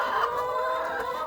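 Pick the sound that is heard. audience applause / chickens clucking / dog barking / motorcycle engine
chickens clucking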